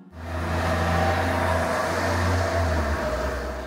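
A retired Mercedes-Benz O305 Hong Kong double-decker, once run by KMB on Tuen Mun Road routes, idles loud and close with a steady low diesel rumble and faint whir, holding evenly before easing slightly near the end.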